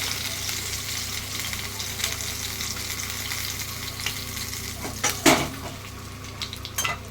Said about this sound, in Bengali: এইভাবে আমি মাছগুলো সব ভেজে নিচ্ছি।